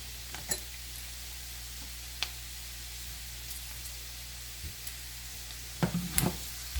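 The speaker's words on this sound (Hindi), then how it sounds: "जैतून के तेल से मैं तड़का लगा रही हूँ" Tempering sizzling gently in olive oil over low heat for whole moong dal, a soft steady frying hiss with a low hum beneath and a few sharp clicks and utensil taps.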